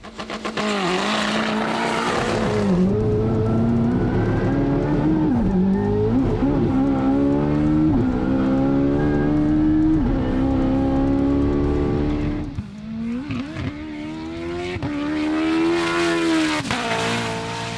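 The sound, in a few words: race car engine revving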